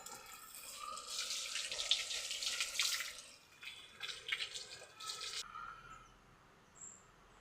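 Running tap water rinsing shampoo out of hair, a close splashing, hissing stream with uneven gurgles and drips, loudest early on and easing off toward the end, with no talk over it.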